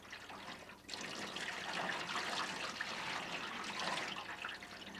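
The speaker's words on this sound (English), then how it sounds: "Look at him letting me put water on his nose." Water poured over a wild mustang's nose, a steady close splashing trickle that runs continuously for several seconds with no voices.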